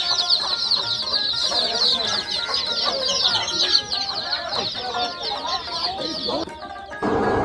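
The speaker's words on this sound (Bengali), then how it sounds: "চাইলে বাচ্চা সহ এই দেশি মুরগিটাও কিনে নিয়ে যেতে পারবেন।" Native village chickens cluck and squawk continuously at an old traditional rural market fair in Bangladesh, a dense, busy layer of close, overlapping fowl calls with market bustle beneath.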